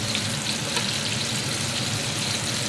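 Battered pork pieces deep frying in hot oil, a steady, dense, close sizzle and crackle that holds evenly throughout with no voices.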